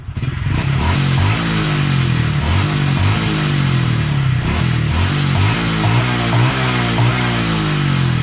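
A car engine with a faulty throttle position sensor revs hard at full throttle, a loud continuous roar with rising and falling pitch sweeps, close up with no talk.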